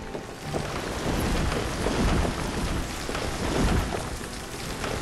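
Rain and thunder in the Banished city-building game: a dense, steady downpour hiss with low rolling thunder rumbling underneath, loud and continuous without speech.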